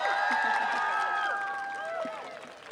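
Audience at Queer Pride Groningen clapping and cheering, a dense wash of applause with whistles and raised voices on top, loud and sustained before easing slightly.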